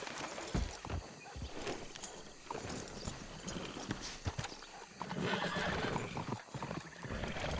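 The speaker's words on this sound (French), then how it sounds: "quelle idée de mettre son cheval énervé là-dedans" An agitated horse in a video game neighs over busy, dense clip-clopping hooves, a loud, cluttered mix with no talking.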